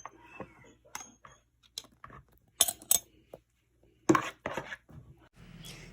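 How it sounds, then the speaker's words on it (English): Thick tomato sauce spooned into a large glass jar: a series of sharp, irregular clinks of a spoon against glass with soft wet scraping between, close and fairly quiet, with no talking. "After I spoon my sauce into the jar"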